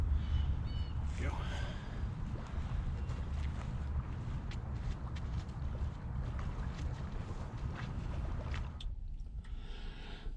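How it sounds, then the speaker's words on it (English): Steady wind buffets the microphone at a lakeside carp-fishing spot, a rough, fluttering rush that stays fairly soft throughout. A voice speaks now and then beneath it. "The wind started picking up, getting a little chilly out there."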